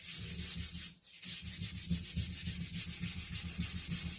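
Yew wood being sanded for an English longbow, a steady rhythmic rasping that repeats in quick strokes close by, pausing briefly near the one-second mark before resuming.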